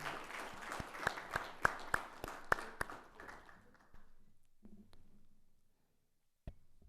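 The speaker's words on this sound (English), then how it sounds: "A huge round of applause for our chief guest and the guest of honors." Applause at a corporate tax conference's opening plenary for the chief guest and guests of honour: a dense burst of clapping with several sharp standout claps, fading away after about four seconds into near silence.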